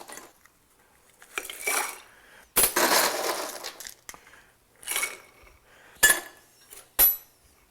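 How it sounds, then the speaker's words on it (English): Ice cubes for an Irish whiskey cocktail are dropped and scooped into a glass or mixing vessel in several separate clattering, clinking bursts with quiet gaps between them, close and unaccompanied by speech. "Now let's add our ice."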